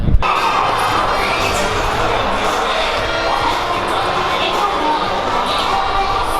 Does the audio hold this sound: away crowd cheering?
yes